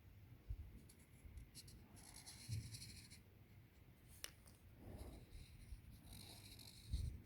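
Chalk scratching and scraping over an outdoor patio surface while tracing around a shadow, with short gritty strokes and a few soft knocks, fairly close and moderately quiet over faint background hiss.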